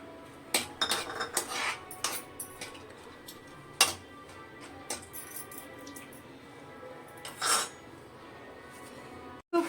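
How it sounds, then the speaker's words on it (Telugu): Cashews frying in ghee in a pan, with scattered metallic clinks and scrapes of a spoon against the pan over a low steady background, no talking. "జీడిపప్పులు నేతిలో వేయించుకోవాలండి."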